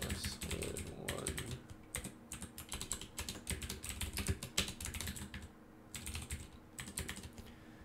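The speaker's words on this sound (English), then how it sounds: "So I'll just set mine to be demo password 1, demo password 1." A password being typed on a computer keyboard, rapid close clacking keystrokes in quick bursts with a couple of short pauses, quiet and with no talking.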